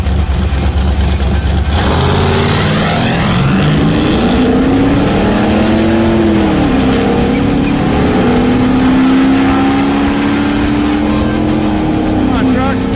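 Mazda mini truck nicknamed the Mazdarati, a small failing truck, with its engine running and revving while driving, a loud steady drone rising in pitch after a sharp start near two seconds, with voices talking over it.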